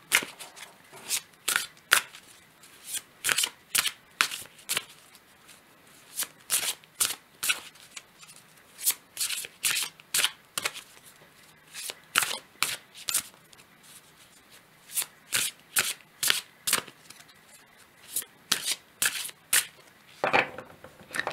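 A deck of oracle cards being shuffled again and again, with quick papery riffles and snaps in repeated bursts separated by short pauses, close and crisp.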